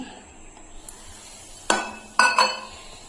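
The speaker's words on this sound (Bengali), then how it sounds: "এখন আমি ভালো করে সব মিশিয়ে নেবো" A utensil stirs Eno fruit salt with a little water in a bowl for an amriti batter, giving a few distinct clinks and scraping taps against the bowl over quiet room tone.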